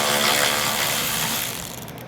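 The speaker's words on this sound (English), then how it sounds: "take off the bolt" Ratchet wrench clicking steadily while backing out a bolt during headlight removal on a 2018–2022 Lexus LC500, close and fairly loud, tapering off near the end, with no talking.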